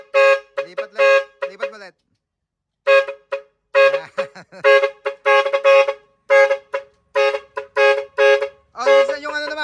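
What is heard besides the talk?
car horn honking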